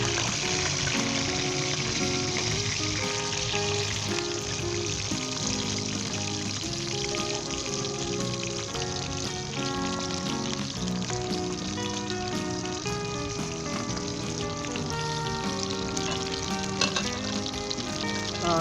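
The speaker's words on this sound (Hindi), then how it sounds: "सबसे पहले हम प्याज को ब्राउन करेंगे।" Onions browning in hot vegetable oil in a wok-style kadhai for a Pakistani beef korma. A loud, dense and steady sizzle runs close and unbroken for the whole stretch, with no voices.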